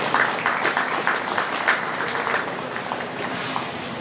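A crowd claps in a scattered, moderate round of applause that gradually thins out, heard from within the audience at a Holstein and Jersey cattle show.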